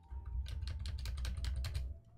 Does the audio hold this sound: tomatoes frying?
no